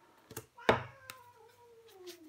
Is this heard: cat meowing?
yes